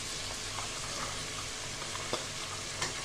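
Vegetables such as carrot, green chilli and beans go into a hot pot for a one-pot sambar, giving a steady, moderately quiet sizzle and fry with a few faint clinks of stirring throughout.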